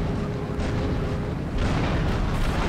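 In GTA III, a tank cannon fires a heavy, booming shot that rumbles on amid continuous low roaring engine and explosion noise, with a second loud blast swelling near the end.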